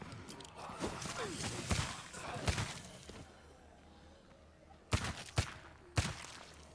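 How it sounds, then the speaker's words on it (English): Suppressed gunshots ring out in State of Decay 2, sharp muffled cracks scattered irregularly, a few sounding in quick succession near the end, amid quieter game sounds. "Wow, my gun is so quiet."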